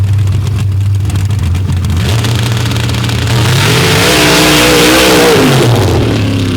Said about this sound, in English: Keith Mitchell with a 960 cubic inch Sonny's power plant with a 4-stage nitrous kit